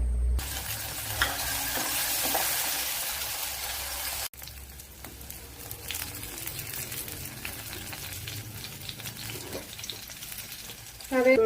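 Okra tossed into hot oil in a pan. A loud crackling sizzle bursts in and runs for about four seconds, then drops to a softer, steady frying hiss with occasional stirring clatter, ending on a brief sharp clank.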